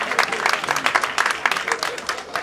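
An audience claps at a councilman's re-election campaign event, a short burst of fairly loud, close clapping from a modest crowd, with no voices over it.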